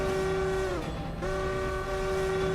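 Logging-style three-chime locomotive whistle in a railroad video game: a loud, sustained chord sounded as two long blasts separated by a brief break.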